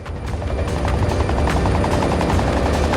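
A video game helicopter's rotor chops in a fast, steady thumping rhythm, loud and near, with no talking.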